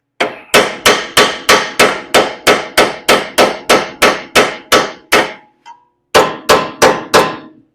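A hammer smacks a tie rod end on the suspension of a 1973 Ford Mustang, with a fast, even run of loud, ringing metallic clangs close by, a short pause, then a few more blows.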